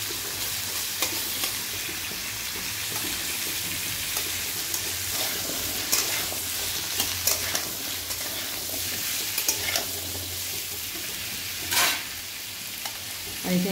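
Asafoetida hitting hot oil for sambar, a continuous close sizzle and crackle with occasional sharp pops and a few scraping stirs.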